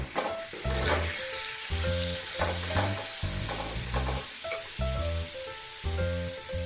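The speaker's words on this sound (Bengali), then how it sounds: "তাই আলুটা আগে ভেজে নেব" Potatoes fry in a pan after ginger for chicken chowmein, giving a steady close sizzle with a few stirring clatters, while tonal background music plays throughout.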